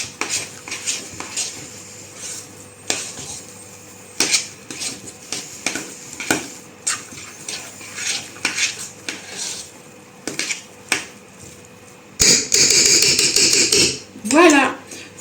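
Vegan potato patty mixture being stirred in a pan, a utensil scraping and clacking against the metal in uneven knocks and scrapes, followed by a louder sizzling burst near the end.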